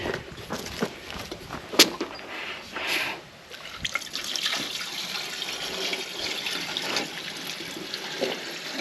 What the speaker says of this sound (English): So now we're going to put a little water in it.